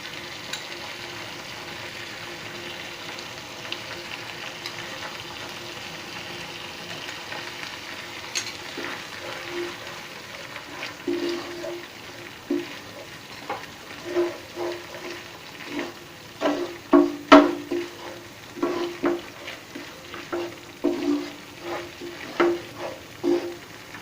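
Spices sizzle in oil as poppy seed paste goes into the pan for a coconut taro curry, a soft constant frying hiss joined by stirring scrapes and knocks that grow louder and more frequent toward the end.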